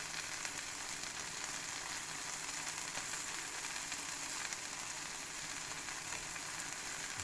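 Mozzarella melts and fries in a pan for a burrito, giving a soft, even sizzle with fine crackling that stays faint and steady throughout, with no voices.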